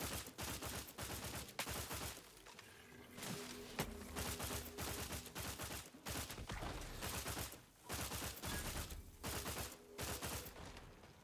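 Rapid gunfire bursts in the sci-fi video game The Outer Worlds 2, loud repeated volleys of shots in quick rhythm with brief pauses between bursts, no talking.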